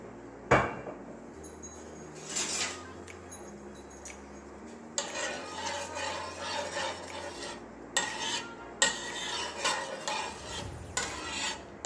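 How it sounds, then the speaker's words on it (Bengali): White oil is spread across a hot tawa before a paratha goes on, heard as scraping and clinking of a metal utensil against the pan in irregular strokes, with a soft low sizzle beneath. "তেলটা একটু সরিয়ে নিচ্ছি এবারে"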